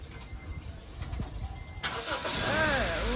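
Car engine cranking and catching midway, then settling into a running idle, close and loud, with birds cooing and chirping in the background.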